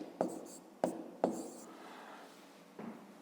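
Pen strokes scratch against paper as an answer is written out by hand, with a few sharp taps at the start of strokes and a soft continuous scratching in between, close and faint.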